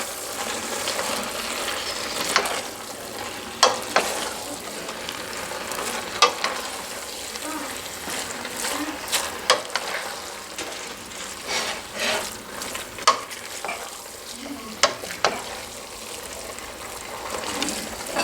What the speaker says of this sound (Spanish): Y vamos a mezclar todo para que tome el gusto y el sabor.